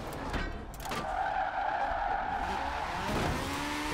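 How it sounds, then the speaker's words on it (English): In Forza Horizon 4, a single-turbo rotary drift car squeals its tires in a long, sustained screech over a roaring engine, loud and close throughout. "Just roasting the tires."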